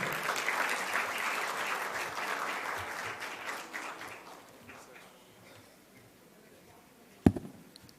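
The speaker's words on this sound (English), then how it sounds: "Please give them a big round of applause." An audience at an actuarial conference session claps for the panelists, with dense applause that gradually fades out, followed by one sharp knock near the end.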